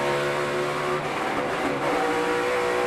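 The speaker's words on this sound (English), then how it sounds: "You heard John Hunter Nemechek actually hit the rev limiter." NASCAR race car engine bouncing off the rev limiter, a loud, sustained high-pitched engine drone that stutters briefly midway before resuming, with no voices.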